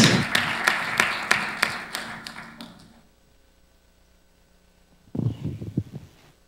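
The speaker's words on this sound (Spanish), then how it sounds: "Desde luego le brindamos un fuerte aplauso a Adara Pérez." Brief rhythmic claps fade into near silence, then a short burst of clapping returns near the end.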